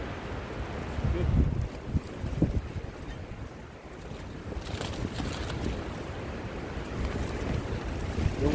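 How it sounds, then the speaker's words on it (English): Wind blowing outdoors at a campsite beside a tent, a steady low rushing roar with buffeting gusts on the microphone, continuous and fairly loud, with faint background sounds mixed in. "The wind."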